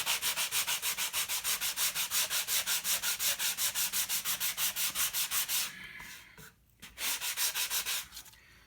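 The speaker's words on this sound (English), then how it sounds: "I'm going to use sandpaper to grind away some of this stuff." Sandpaper rubbed back and forth over a cut stencil, a steady, rhythmic rasp of about forty quick close strokes that pauses briefly, then resumes for a few more.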